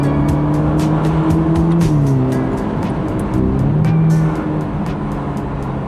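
A Ferrari Roma Spider in race mode on the Pacific Coast Highway, its engine droning loud and close with shifting pitch and a run of sharp crackling exhaust pops scattered through the sound.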